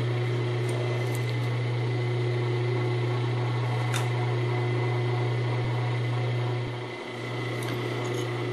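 A sewing machine stitching placemat fabric close to interfacing, a steady low motor hum with a constant whirring drone that dips briefly near the end, no speech.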